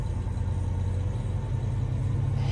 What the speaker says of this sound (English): so all you hear is the engine of this truck that this guy's driving.